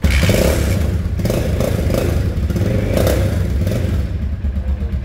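A Vento Falcon 220 motorcycle kick-started and running, its single-cylinder engine loud and close with a rough, thumping idle and mechanical clatter throughout.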